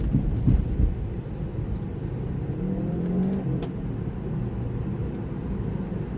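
A Tesla Model 3 pulls away with traffic at a green light, giving a low, continuous road rumble and a soft electric whir that builds gently as the car moves off.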